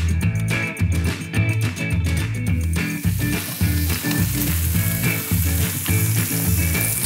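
Beef burger patty sizzling in butter in a hot pan, a loud and steady frying crackle that runs unbroken throughout, with no talk over it.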